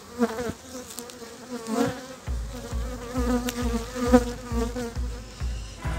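Honey bees buzz around an open beehive, a dense droning hum with individual bees passing close, while a rhythmic low thumping pulses repeatedly underneath.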